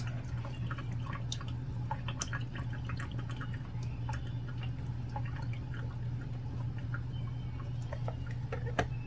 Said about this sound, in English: Now I'm going to drain this water off, so I don't have to lose any toilet paper.